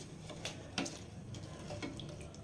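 Dissolved jaggery syrup is strained into a vessel, giving a faint trickle of pouring liquid with a few soft splashes and light clinks against the pot, close but quiet.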